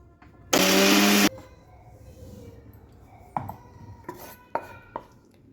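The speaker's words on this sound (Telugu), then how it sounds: "ఒకసారి మిక్సీ పట్టుకోవాలి" A mixer grinder whirs at full power for less than a second on a batch of cumin, garlic and salt, then cuts off. A few clinks of the jar and lid follow.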